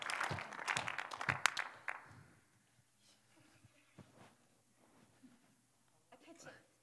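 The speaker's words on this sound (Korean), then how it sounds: "박수 쳐 주십시오." Brief audience clapping at a church workplace-ministry gathering, a short burst of applause that dies away within two seconds, followed by quiet room noise and faint voices.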